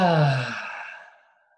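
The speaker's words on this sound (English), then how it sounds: "take a nice big deep breath in" A single deep breath during a closing yoga meditation: a long, soft exhale, close and fairly loud at first, fading out over about a second and a half.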